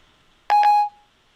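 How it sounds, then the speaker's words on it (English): Siri activation tone on an iPhone 4S running iOS 5: one short, clean electronic double chime, close and clear, with no talk over it. "let me activate Siri"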